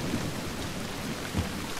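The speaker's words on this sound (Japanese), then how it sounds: "でこっからさらに雨か" Steady rain falls with a low rumble of thunder in the video game The Last of Us Part II, a dense continuous hiss of moderate, even loudness with no voices.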